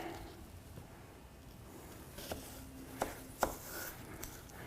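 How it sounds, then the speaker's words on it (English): A knife cuts wedged apple slices in half on a board: several soft, quiet chops land in an uneven rhythm over a faint background hiss, with no voices. "I'm just going to take some of these slices and cut them in half again"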